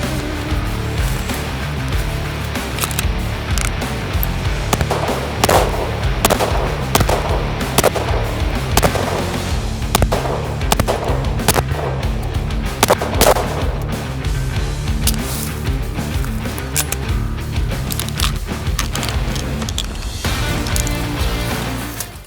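Smith & Wesson M&P Spec Series pistol fired at a range, a dense run of loud, close sharp reports that continues steadily without pause over a constant roar.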